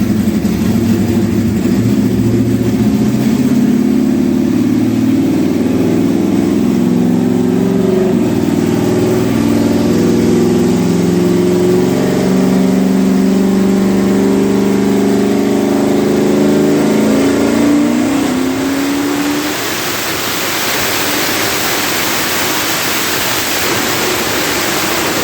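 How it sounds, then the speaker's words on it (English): A Trans Am's engine, fitted with a new cam and ported intake, roars on a dyno pull, climbing steadily in pitch for about eighteen seconds before cutting off into a loud, broad rushing hiss. "We're doing another motor pull."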